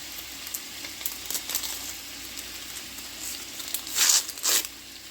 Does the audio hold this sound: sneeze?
no